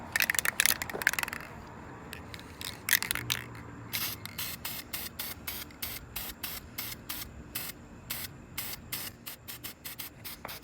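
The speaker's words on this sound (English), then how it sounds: "I'm finna still spray paint it again." Bursts of hissing spray from a spray paint can, short repeated sprays in an irregular rhythm with a rattle early on, close up.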